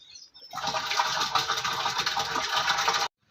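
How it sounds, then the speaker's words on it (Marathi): Desi cow dung poured into a slurry of flour dissolved in water, a steady wet rushing gush lasting about two and a half seconds before stopping abruptly. "आता आपण ह्याच्यामध्ये देशी गाईचं शेण जे आहे ते ओतून घेतोय"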